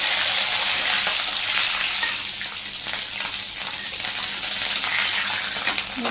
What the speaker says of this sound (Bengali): মুগ ডালগুলো ভাজি করা হয়ে গেছে যে হালকা বাদামি কালার হয়ে গেছে